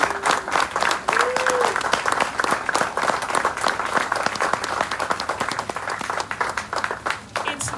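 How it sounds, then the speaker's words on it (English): Audience applause at a 2025 swearing-in ceremony for Laura Conover, a sustained dense clapping from a crowd honoring the workers, steady and fairly loud across the whole stretch. "would you please give the actual workers a huge resounding applause?"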